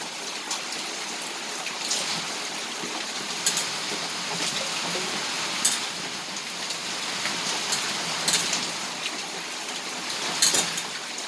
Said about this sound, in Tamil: இப்போ நல்லா மழை பெய்யுது